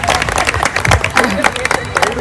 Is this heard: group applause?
yes